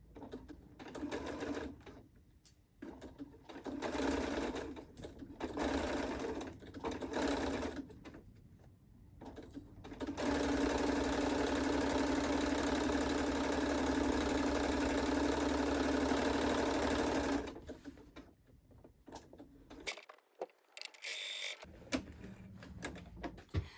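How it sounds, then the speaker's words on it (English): A sewing machine stitches a drawstring make-up bag in short bursts, then one long continuous run of close, steady whirring motor and needle clatter before stopping, with brief handling noise. "as you get close to the pins, remove them before stitching over them"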